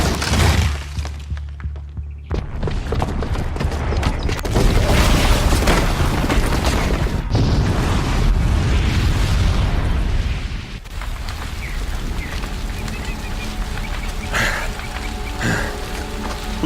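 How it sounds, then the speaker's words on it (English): A booby-trapped bomb goes off during an attack on a city in the game Horizon Zero Dawn. A loud explosion bursts out, followed by a long roaring rumble and scattered shattering debris that settles to a steady crackle. "the booby trap on the bomb downstairs is gonna get set off"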